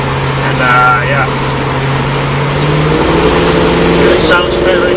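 1966 Ford Mustang hardtop with a 289 cubic-inch V8 and drum brakes, driven on the road: a steady, loud engine drone at cruising speed, with someone talking over it.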